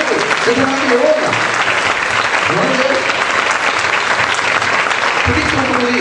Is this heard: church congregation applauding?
yes